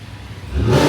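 A retuned Chevrolet Camaro with a cam and full bolt-ons revs up, its engine note swelling from a low idle rumble into a loud, rising roar in the second half.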